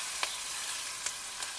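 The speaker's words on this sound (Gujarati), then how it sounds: "હશે હળદર, પહેલાં નાખવાના છે મરચાં," Green chilies sizzling in a hot oil tempering of mustard seeds, cumin, curry leaves and turmeric for poha bateta, a steady hiss with a few sharp crackles, close and alone.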